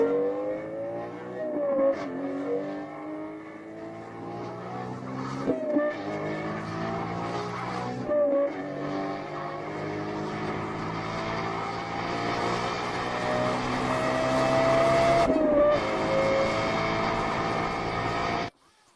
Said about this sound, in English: the one and only Lexus LFA, whose sound will make you forget everything